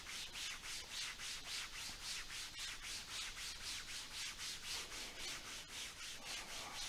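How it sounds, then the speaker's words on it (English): Hands rub back and forth along thighs in a steady, even rhythm of soft swishing strokes, about two per second, close and alone with no talk. "Beginning to rub your hands back and forth along your thighs"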